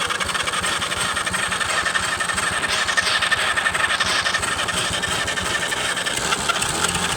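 A flooded tractor engine cranks and runs roughly with the throttle held wide open, a steady loud mechanical drone with pulsing low-end rhythm throughout and no talk.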